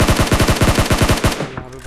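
Rapid automatic gunfire from a mobile battle-royale shooter game, about a dozen loud, evenly spaced shots in a quick burst that cuts off and fades.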